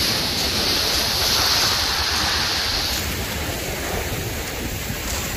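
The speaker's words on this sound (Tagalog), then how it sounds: "Malakas-lakas na yung alon." Strong waves crash and wash over a pebble shore on Manila Bay in a loud, unbroken roar of churning water, close by and without any talking.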